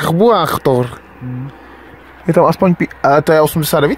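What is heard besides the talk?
No everyday noise stands out behind the speech.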